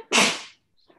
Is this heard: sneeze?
yes